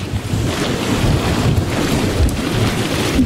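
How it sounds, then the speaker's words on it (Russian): Strong wind roars across a small beach by the sea in Feodosia, loud and continuous with low blustery buffeting of the microphone and a wash of surf beneath, no voices. "Ветер, с ума сойти."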